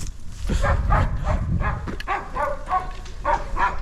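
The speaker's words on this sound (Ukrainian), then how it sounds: "Собака гавкає." A dog barking outdoors on a farm near grazing livestock, a rapid series of close, repeated barks over low rumbling background noise.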